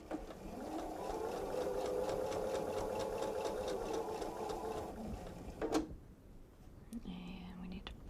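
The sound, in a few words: sewing machine sewing a bench pillow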